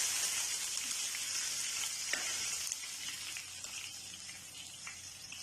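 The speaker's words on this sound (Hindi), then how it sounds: "और यहाँ हमारे पास 4 से 5 अदद जो है वो साबुत मिर्चें डालेंगे।" Whole dried red chillies fry in hot oil for achari dal, giving a continuous bright hiss and crackle with faint stirring, close up and gradually settling a little softer.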